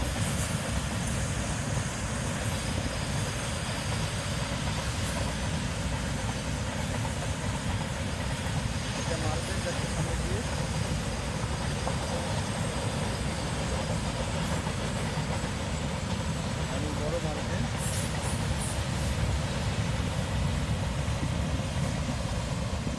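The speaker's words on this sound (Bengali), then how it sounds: "এদিকে দেখি ট্রেন যাচ্ছে মালে গাড়ি যাচ্ছে" A freight train rolls past for a long stretch, a continuous heavy rumble and rattle of wagons holding a steady loudness throughout, with no talk.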